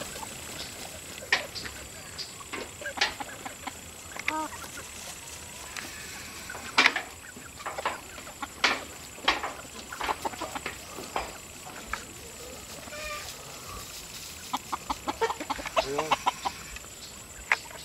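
Chickens scratch about in the dirt, letting out scattered soft clucks and short calls, some nearer and some farther, over a quiet outdoor background.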